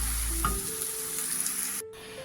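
Garlic, oil and tomato paste frying in a pan for borscht, a steady close sizzle with a faint stirring scrape and a brief cut near the end.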